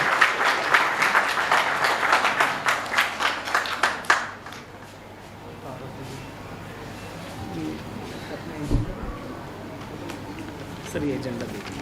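An audience gives a guest, Qaiser Khalid, loud rhythmic clapping in unison at an education society event, the beats strong for about four seconds before fading into murmuring room noise and occasional voices.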